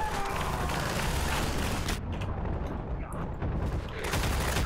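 Gunfire in the Half-Life 2 video game, dense bursts of rapid shots with booming impacts, loud and close, briefly thinning before the shooting resumes, with no voices over it.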